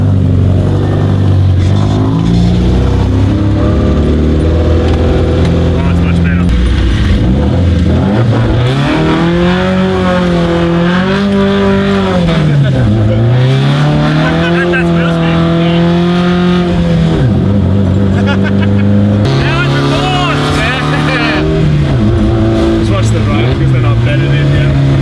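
A Toyota RA40 with a swapped 18RG twin cam engine revs loudly and up close, its pitch rising and falling in repeated sweeps over a rough idle, with voices talking underneath.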